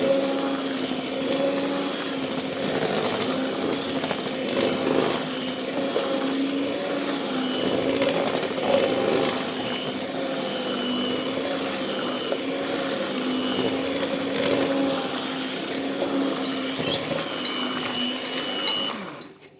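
An electric mixer whips goat sour cream into butter in a bowl, a steady, loud mechanical whir that holds continuously with small fluctuations before cutting off abruptly.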